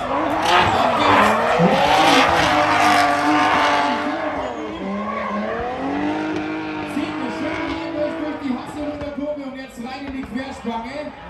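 An Opel Omega drift car powered by a turbocharged BMW six-cylinder roars at high revs while its tires skid and squeal. The engine sweeps up and down continuously, loud and close, with crowd noise beneath.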